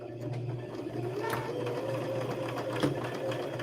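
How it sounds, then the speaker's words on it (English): A sewing machine stitches a quilt block with a back tack, giving a steady, close mechanical hum and rapid needle chatter throughout, with no voices over it. "I'm going to put my needle down, and then I'm going to sew a little bit, and then I'm going to do a back tack"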